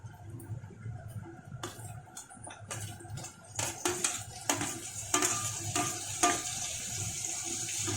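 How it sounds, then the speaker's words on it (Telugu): Tomatoes tossed into ginger-garlic paste frying in a pan for Andhra-style boondi curry, then stirred, giving a steady low sizzle with scraping stir strokes that grow louder and more frequent near the end, close by and without talk. "ఇప్పుడు ఇందులో టమాటా వేయాలి"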